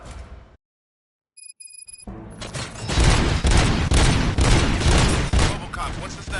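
Gunfire in the video game Robocop: Rogue City: after a short silence and a few electronic tones, sustained rapid bursts of shots rattle on loudly and continuously.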